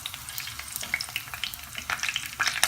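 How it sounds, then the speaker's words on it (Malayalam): Curry leaves hit hot oil with fenugreek seeds frying for a Malabar prawn curry, setting off a busy crackling sizzle with sharp spitting pops, close and steady throughout without any voices. "അപ്പം നമുക്കിനി കറിവേപ്പില ചേർത്ത് കൊടുക്കാം."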